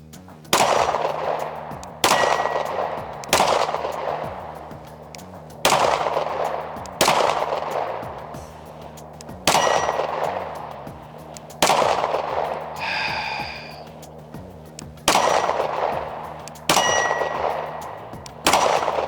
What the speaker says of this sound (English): we're gonna cycle about 10 rounds through this.